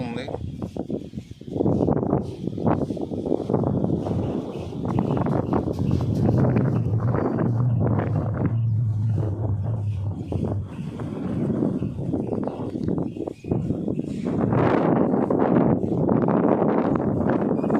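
Strong wind gusts over flooded colonies around the Budameru canal in Vijayawada after record heavy rain, a loud, rumbling buffeting roar with microphone wind noise and someone speaking over it.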